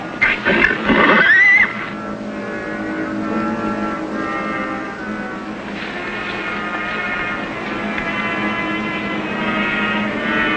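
A horse lets out a loud, shrill whinny for about a second near the start, followed by a long stretch of sustained orchestral music.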